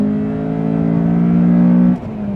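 A Honda Accord sedan engine pulls hard, its strong, close drone climbing steadily in pitch before dropping sharply at a gear change near the end.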